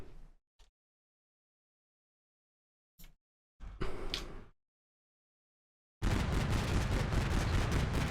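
Gunfire in the Combat Mission: Black Sea war game: a few short sharp reports separated by silence, then a dense, loud, sustained burst of firing to the end.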